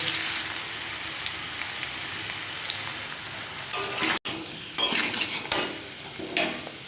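Fried potatoes stirred in a pan with turmeric powder: a steady, close sizzle runs throughout, broken by several louder scraping clatters of a utensil against the pan near the end, with no talking.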